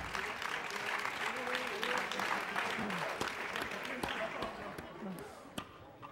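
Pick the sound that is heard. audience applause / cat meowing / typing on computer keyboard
audience applause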